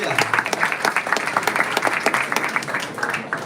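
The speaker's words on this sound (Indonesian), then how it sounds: "Boleh tepuk tangan." A modest group of young people at a Bandung gathering clap in response to a question, distinct individual claps forming an uneven, fairly close patter rather than a dense roar, with some voices mixed in.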